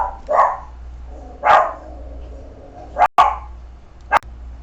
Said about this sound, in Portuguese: parei um pouquinho porque o cachorro estava latindo